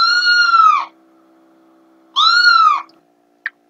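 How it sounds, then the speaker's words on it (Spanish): A cat meows twice, each a drawn-out, wavering cry with a short silence between, followed by a faint click at the end. "A lo mejor cómo maullan esos gatos."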